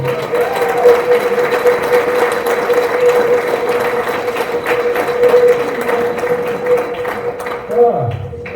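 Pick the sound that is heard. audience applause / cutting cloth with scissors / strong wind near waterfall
audience applause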